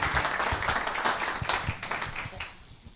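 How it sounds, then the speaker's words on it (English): Audience applause at a monthly Republican club meeting in The Villages, Florida: steady, dense clapping from a roomful of people that holds for the full three seconds and thins slightly toward the end. "So let's have a round of applause for Nancy and Carl, please"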